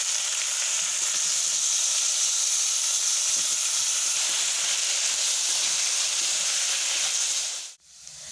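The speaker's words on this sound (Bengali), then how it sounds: "আলুটা প্রায় ভাজা হয়ে এসছে।" Salted potato pieces fry in a pan in a village kitchen, giving a loud, even, continuous sizzle that stays steady for about eight seconds before cutting off abruptly near the end.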